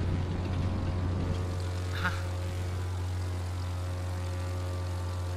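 Steady low engine drone inside a plane cabin in the racing game The Crew 2, a constant hum with a faint brief chirp partway through, heard alone.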